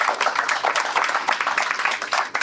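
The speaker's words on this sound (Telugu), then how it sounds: "గట్టిగా చప్పట్లు కొడదాం" An audience at a talk claps hard in a dense, continuous patter of many hands that stays loud and even from start to finish.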